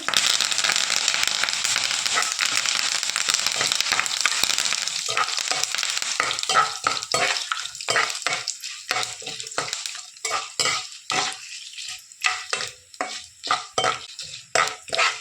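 Whole spices and curry leaves (bay leaf, cinnamon, cloves) crackle and sizzle in hot oil for tomato rice, a dense steady fry that breaks into sharp popping bursts as it settles, close and loud with no talk.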